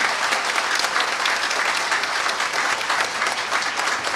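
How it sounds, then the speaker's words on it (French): Thick, continuous applause from an assembled audience at a technical and vocational high school inauguration, loud and even from start to finish with no voices standing out. "elle mérite beaucoup d'applaudissements"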